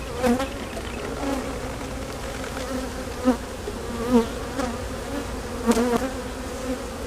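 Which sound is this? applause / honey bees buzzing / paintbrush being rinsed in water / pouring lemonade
honey bees buzzing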